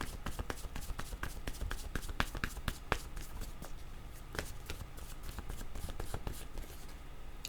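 Playing cards are shuffled for a card reading, a rapid run of crisp riffling snaps and flicks, close and fairly quiet, continuing steadily with no talk.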